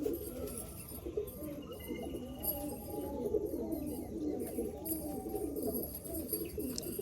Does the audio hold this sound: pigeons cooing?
yes